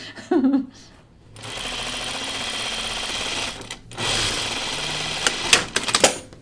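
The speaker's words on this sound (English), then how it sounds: "I just did a little 1/4 inch seam" A sewing machine runs a quarter-inch seam in two steady bursts of fast, even mechanical whirring, close and loud, separated by a brief stop, with a voice speaking briefly at the start and some handling clicks at the end.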